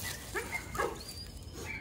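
A dog at a kennel gives two short, close barks or yips with a brief pause between, over steady background noise.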